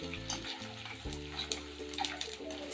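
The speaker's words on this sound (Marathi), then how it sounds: "ह्याच्यामध्ये मी थोडा थोडा डिंक घालून घेते आणि डिंक तळून घेते" Edible gum pieces fry in hot ghee, giving a steady, close sizzling hiss with small bubbling crackles throughout, set under soft background music.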